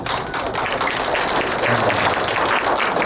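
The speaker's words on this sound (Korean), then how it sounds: "박수 한번 쳐보실래요?" Seminar audience applause at a memory-health talk: a dense, steady wash of many hands clapping together, loud and sustained throughout without a break.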